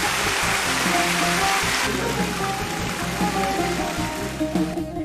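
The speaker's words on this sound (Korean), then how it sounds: "아람브라에서 특이한 건 어디 가나 들리는 이 물소리인 것 같아요." Flowing water runs continuously through channels and fountains of the Generalife gardens at the Alhambra in Granada, a steady, close rushing and splashing that fills the scene with no voices.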